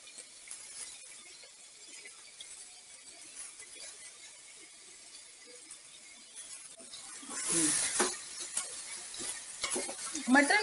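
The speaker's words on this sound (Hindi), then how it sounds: "प्याज को हमें ब्राउन नहीं करना है, जस्ट एक बार हमें इसे घुमाना है" Onions stir in hot oil in a pan with a faint, steady sizzle, then a louder burst of scraping and clinking as a utensil moves through them near the end.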